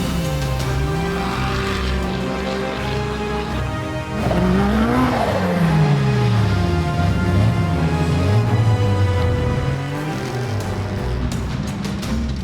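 Off-road race cars at the Pines Enduro 400 in the Australian off-road racing series roar past one after another, engines revving and swelling as they approach and sweep by, loud and close.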